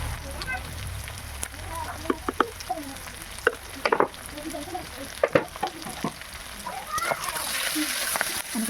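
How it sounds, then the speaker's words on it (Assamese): Boiled pork fries in a kadai for a sesame pork dish, a close crackling sizzle with irregular scrapes and clatters of stirring while a voice talks over it. "আৰু এইফালে আমাৰ কেৰাহীত দিয়া হ'ল বইল কৰি থোৱা গাহৰিখিনি"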